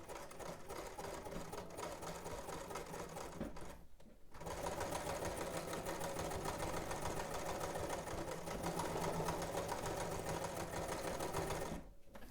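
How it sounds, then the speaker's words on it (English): A sewing machine running a straight stitch along a 5/8-inch seam, a fast continuous mechanical whir in two long runs separated by a short pause, close and steady, with no voice over it. "We're just making a straight stitch at 5/8 of an inch."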